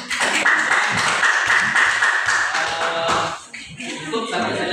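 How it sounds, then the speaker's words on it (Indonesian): A classroom full of students applauding a group's performance, dense steady clapping throughout with a brief dip near the end before picking back up. "Mari kita beri aplaus"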